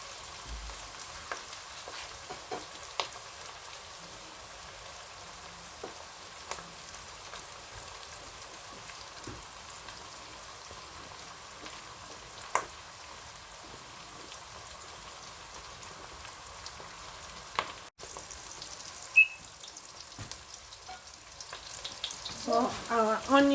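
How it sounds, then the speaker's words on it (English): Onions and shrimp stir-frying in a pan for rice noodles, a steady soft sizzle crackling continuously for the whole stretch, with occasional louder clinks and scrapes of stirring and a brief busier patch near the end. "it's just stir fry"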